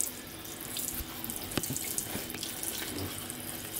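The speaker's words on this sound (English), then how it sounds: "You fill up the whole sink." A kitchen sink filling from the tap, a steady close rush of running water with small splashes and drips throughout.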